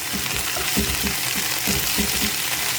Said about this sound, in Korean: 말려놨던 거 지금 묵나물로 볶고 있어요